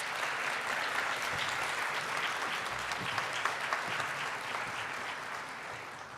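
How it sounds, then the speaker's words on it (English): Sustained audience applause fills a college convocation hall after a choir performance, a dense, even wash of many hands clapping at steady loudness for several seconds, tapering slightly at the end. "Please help me give her a round of applause."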